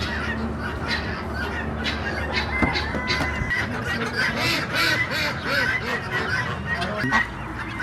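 Ducks and geese at a farm honk and quack in repeated, close, overlapping calls over a low background hum, with someone speaking at times.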